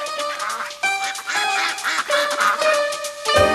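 Two angry ducks quack loudly and continuously, their harsh nasal calls overlapping close up with no gaps and no other sounds.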